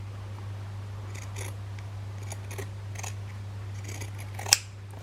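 Scissors snip through fabric while trimming a hard journal cover, a few short quiet cuts spread across the moment and one sharper close snap near the end, over a steady low hum.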